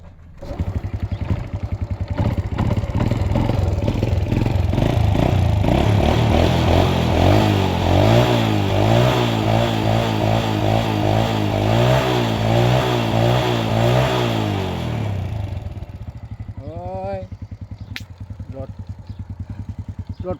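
Honda Wave 100 motorcycle engine, said to have a fault and to start hard, revving up and down in long wavering pulls close by, then dropping to a lumpy idle near the end.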